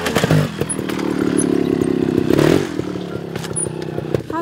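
Trials motorcycles ride up and down steep lines, giving a steady buzzing engine drone that swells near the middle with rev changes and some clattering, moderately loud with no talking.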